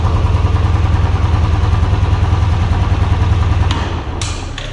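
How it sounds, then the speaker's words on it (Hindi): Royal Enfield Classic 350 BS6 motorcycle idling with a steady low thumping beat, then the engine cuts off near the end when the side stand is lowered, leaving a few clicks and a fading hum. "जैसा आप देख रहे हो इंजन कट ऑफ हो गया"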